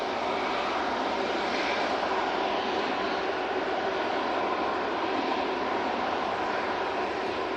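A Ryanair airliner from Rome on final approach to Manchester Airport makes a loud, continuous engine roar and rushing hiss, steady and close throughout with no talking.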